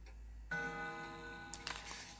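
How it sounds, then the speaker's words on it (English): Clock in Spirit Hunter NG sounding as its long hand is spun: a sudden ringing chime with sustained tonal overtones, followed by a few quick faint ticks, close and clear. "When I spin the long hand, the clock makes a noise."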